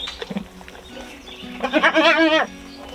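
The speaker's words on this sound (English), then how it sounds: "Where's the baby goat?" A newborn goat kid bleats at birth on a homestead, one loud wavering cry up close after quieter shuffling and faint sounds.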